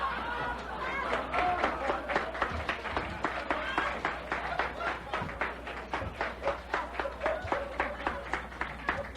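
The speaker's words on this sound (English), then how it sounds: "Are you applauding Chuck?" Live audience at a 1964 talk bursts into sustained, rhythmic applause with laughter and chatter mixed in, clapping pulsing steadily throughout at moderate loudness.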